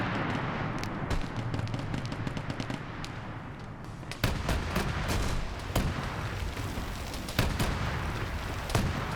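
Munitions cook off in a Warhammer-style tabletop-inspired video game battle, a crackling barrage of sharp pops and booming blasts, with heavier explosions bursting out at intervals over a continuous rumble.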